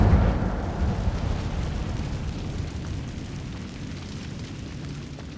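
An Incendio fire spell cast in Hogwarts Legacy bursts out as a loud whooshing blast, then fades into a long, low roaring rumble that slowly thins out over several seconds.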